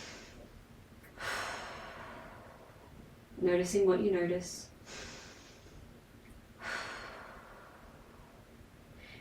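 Slow, deep breaths taken while holding a deep squat pose, with long audible exhales spaced several seconds apart, close by, and a short stretch of quiet speech between them.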